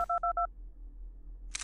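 Four quick telephone dialing beeps from Five Nights at Candy's 2, sharp and evenly spaced, followed by a low hum and a short burst of noise, with no one talking.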